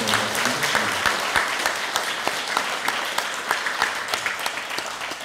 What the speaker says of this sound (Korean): 우리 한 번 더 박수할까요?